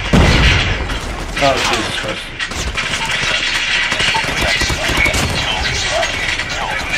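Rapid bursts of automatic gunfire and explosions from the mobile shooter game COD Mobile, dense and continuous with loud impacts, while a player exclaims in surprise over the action.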